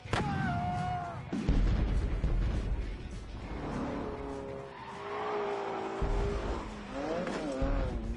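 A car drifts sideways with its tyres squealing, giving long wavering screeches and engine roar that rise and fall throughout, fairly loud and continuous.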